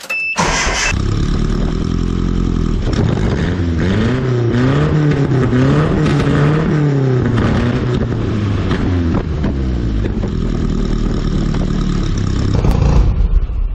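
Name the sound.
Datsun engine revving through new big exhaust tip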